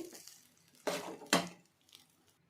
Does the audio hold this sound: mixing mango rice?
yes